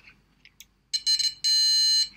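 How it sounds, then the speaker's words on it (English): An Arduino-driven electronic buzzer sounds in two bursts, a short stuttering beep followed by a longer steady high-pitched tone, loud and close after a near-silent start. "it sends a signal to the buzzer to sound"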